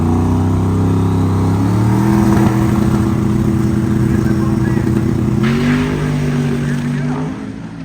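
A drag racing car at Cordova Dragway during Sick Summer Day 2 roars down the strip, its engine note climbing loudly then easing off, under a race announcer's commentary.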